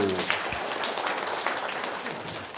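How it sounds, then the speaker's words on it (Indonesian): A live audience claps steadily for a few seconds at an event where a large debt was paid off, a dense, continuous wash of hand claps at fairly even loudness with no talk over it. "Tepuk tangan dulu Bapak Ibu."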